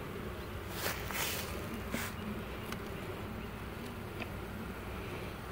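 Honeybees in an opened hive full of propolis make a faint, steady buzz, with a few sharp bursts from bees flying close by as the frames are worked.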